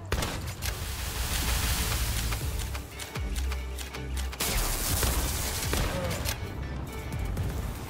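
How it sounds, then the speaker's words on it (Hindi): Rockets and gunfire in the video game Palworld, a dense continuous barrage of blasts and shots rumbling loudly throughout with no pauses, a few sharp impacts standing out near the middle. "ओ भाई साहब ये तो रॉकेट मार रहे रे"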